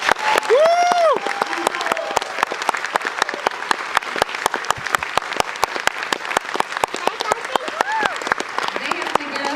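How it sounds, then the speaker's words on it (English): A school audience gives a round of applause after a third grade concert, with loud sustained clapping and a few cheers and whoops rising over it, steady from start to finish. "Let's give them one more round of applause."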